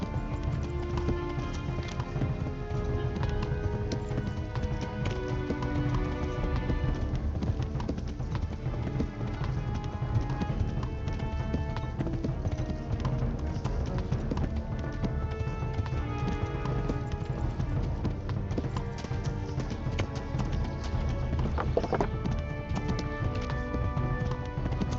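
Horse hooves galloping in the video game Kingdom Come Deliverance, a continuous fast clip-clop rhythm held steady for the whole stretch under a dense game soundscape, with no talk.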